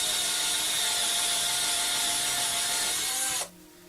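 A Ryobi cordless drill with a random bit spins at high speed through wood, giving a loud, steady whine that holds evenly and then cuts off abruptly as the trigger is released.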